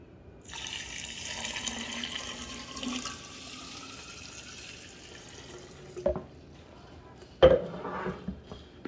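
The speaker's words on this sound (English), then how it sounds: "have to do is take your cold water and you pour it in." Cold water is poured into a container to make cold brew coffee. A soft, steady stream runs for several seconds, followed by two sharp knocks near the end.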